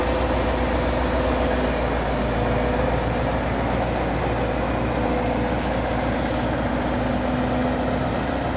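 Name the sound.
Tatra 148 truck engine running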